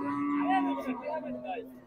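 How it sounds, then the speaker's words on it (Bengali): A large cow without a calf lows at a crowded rural cattle market before Eid, one long, drawn-out, fairly quiet moo that wavers in pitch and tails off. "এই যে এখানে একটি গাই গরু দেখুন"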